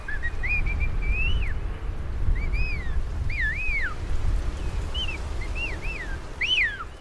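Whistled language of Oaxaca's native people, high in foggy mountains: a series of short rising and falling whistles, moderately distant, repeating in phrases over a low background rumble with no speech.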